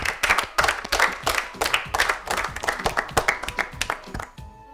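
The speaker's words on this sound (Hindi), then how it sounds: "जोरदार तालियां एक बार फिर।" Rhythmic group clapping in a school classroom during an arts-and-maths lesson, praising a pupil's correct answer, with uneven bursts of claps repeating in a loose beat before stopping.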